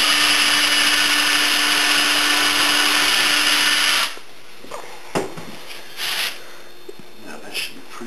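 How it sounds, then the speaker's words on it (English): A power drill fitted with a 1/16 inch bit whines loudly and steadily into wood while a soap mold is built, then stops abruptly, leaving a few faint knocks and rustles. "I'm going to try to line this drill where it hits right in the corner on this end"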